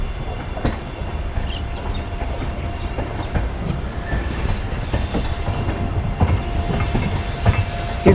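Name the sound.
Amritsar Bikaner Superfast Express train 14720 running on curve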